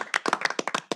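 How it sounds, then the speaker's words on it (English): About a dozen sharp, quick claps at a steady rhythm, close and fairly quiet, from an audience at a city mayor and council meeting, lasting about a second with no talking. "At this point, we tend to clap."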